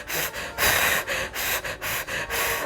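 A woman in labour at home imitates heavy breathing with loud, rapid gasping breaths, several quick rhythmic inhales and exhales close to the microphone.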